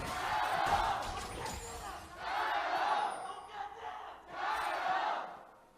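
Fans in a League of Legends esports arena at an LPL Spring 2018 match between LGD Gaming and JD Gaming cheer and roar in three loud swelling bursts, with the crowd noise rising and falling between waves.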